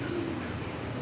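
A Kamgar pigeon gives a brief, soft, low coo, close and alone over a faint background hum.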